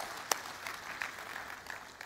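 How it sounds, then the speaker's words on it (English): A conference audience at an engineering summit applauds in a large hall, a faint, distant patter of clapping with a few sharper claps standing out. "let's give a round of applause for all the students in the"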